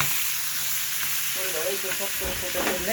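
Chicken leg pieces fry in ghee and oil with a steady, loud sizzle and crackle, stirred occasionally, with no voices.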